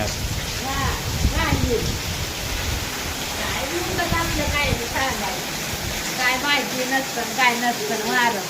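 Heavy rain and gusting wind sweep over a hillside village, making a steady, dense roar of falling water that fills the whole stretch, with faint voices mixed into the downpour.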